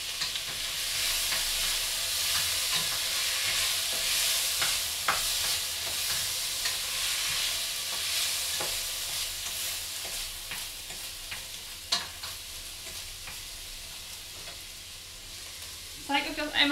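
Pea soup stew bubbling and simmering in a pot on the stove, a steady close sizzling hiss with scattered small pops and crackles throughout, no talking.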